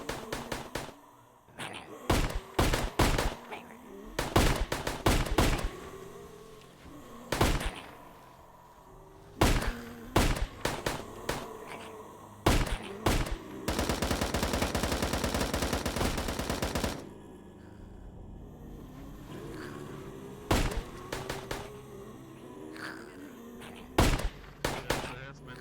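AUG rifle fire in the video game VRChat, with sharp single shots and short bursts, then a long rapid automatic string, loud and close, with a voice talking between the volleys.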